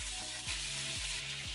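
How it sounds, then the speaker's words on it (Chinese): A walleye sizzles in hot oil over high heat in a home kitchen, a dense, continuous crackle of frying with a faint periodic scraping or stirring underneath. "煎鱼的过程始终是大火"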